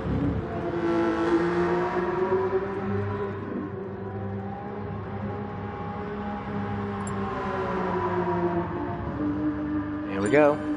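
Porsche Supercup race cars in a video game at Fuji Speedway roar together off the start, a steady, loud layered engine drone with pitch rising as they accelerate, and a voice talks over it.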